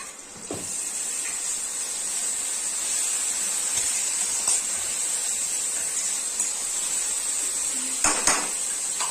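Steady sizzling of ginger-garlic paste frying in a hot pan, with occasional clinks of a metal spoon against the pan near the start and end.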